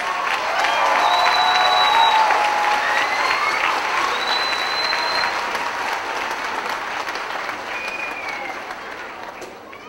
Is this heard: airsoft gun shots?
no